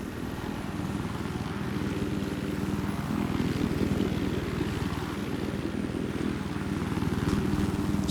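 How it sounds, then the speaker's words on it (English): A helicopter in Battlefield 4 flies with a steady, loud rotor thump and engine drone that holds continuously throughout without speech. "the controls on the helicopter in Battlefield 4 are nice and responsive"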